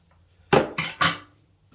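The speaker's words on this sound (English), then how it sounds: "just using a pair of scissors, we'll probably take a couple inches off of it here" Three quick, crisp scissor cuts through a rubber toilet fill valve hose in succession, close and sharp, each a short crunching snip through something firm.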